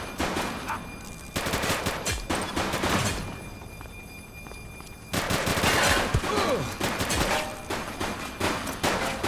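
Bursts of rapid gunfire in a police game, two long loud volleys of dense automatic shots split by a quieter gap, with a few stray shots near the end.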